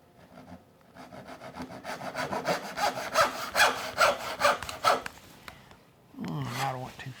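A hand saw cuts dovetails in wood, a steady series of rasping back-and-forth strokes that grows louder and then stops, followed by someone briefly speaking.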